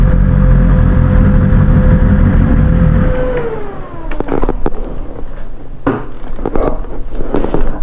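Tuned 2020 BMW S1000RR motorcycle engine and exhaust, a loud sustained high-revving drone that drops off abruptly, followed by sharp crackling pops and backfires from the exhaust, close and without talk.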